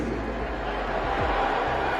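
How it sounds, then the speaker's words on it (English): Audience at a Dave Chappelle comedy show in San Francisco booing Elon Musk, a dense, moderately distant crowd roar of jeers and mixed cheers sustained throughout. "All those people are booing"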